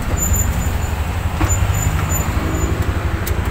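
A vehicle passes on a road outside, a steady close rumble of engine and tyre noise with a faint high whine, continuous and fairly loud without talk.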